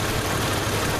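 A 3.2 liter dual overhead cam Isuzu engine in a 1997 Isuzu Rodeo runs steadily, a close, dense, even engine noise with no voices.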